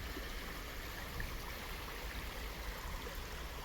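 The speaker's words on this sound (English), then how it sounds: "A little creek we were following for a little bit there at the end." A small creek flows beside a hiking trail on the Eagle Falls Trail at Cumberland Falls State Park, giving a constant, even rush of water with no pauses or voices.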